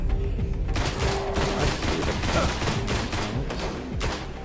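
Sustained gunfire in the sci-fi shooter video game Destiny, dense overlapping bursts of rapid shots with a booming explosion, loud and continuous throughout with no talking.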